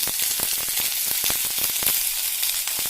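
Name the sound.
whole chilies frying in pan for tomato theeyal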